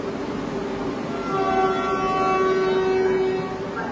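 A Vande Bharat Express train pulls away from the platform, its steady rolling rumble swelling midway as a long, tonal horn sounds over it, fairly close and loud with no talk.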